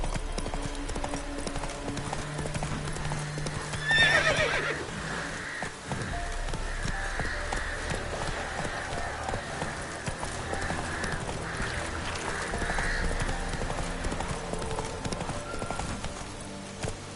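Roach, a horse in The Witcher 3 video game, gallops with rapid, steady clip-clop hoofbeats that run the whole time, with a brief whinny near the start, and a few quiet spoken words.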